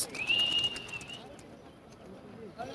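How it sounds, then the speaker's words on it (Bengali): Racing pigeons being released, with a brief high, whistle-like bird call near the start that fades into quiet open-air ambience and faint rustling. "কবুতরগুলা ছেড়ে দেন"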